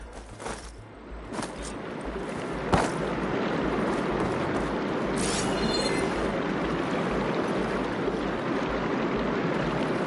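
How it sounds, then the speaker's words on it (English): Running water in an enclosed room in the game Horizon Forbidden West, a steady broadband rush that rises after a couple of seconds and continues evenly throughout, with a few faint clinks early on. "Aloy, I can hear water in the room again."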